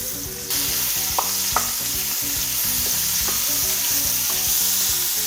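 Onions frying in a pan, a continuous bright sizzle with repeated stirring scrapes of a utensil against the pan and a few sharp clinks, close and steady, with no voices.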